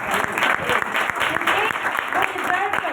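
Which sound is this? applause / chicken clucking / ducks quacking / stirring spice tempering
applause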